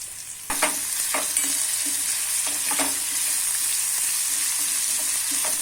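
Chilies and mango fry in a hot pan for a chili relish, a steady bright sizzle running throughout with repeated soft scrapes and clacks of stirring at an uneven rhythm, close and alone.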